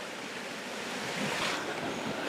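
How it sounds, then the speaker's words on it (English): Rushing stream water swollen after a storm flows in a steady broadband roar, close and continuous with no voices, some wind buffeting mixed in. "You can hear the rushing water as we had Storm Claudia last night or yesterday."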